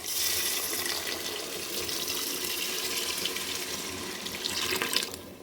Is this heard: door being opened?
no